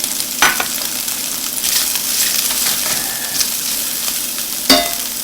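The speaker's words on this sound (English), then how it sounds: "we're going to saute the octopus just a little bit" Octopus sautés in olive oil in a pan, giving a steady close sizzle and hiss. A few sharp clicks and knocks of stirring come through the sizzle.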